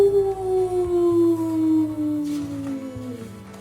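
A single long howl from a human voice imitating a wolf, sliding slowly downward in pitch and fading toward the end.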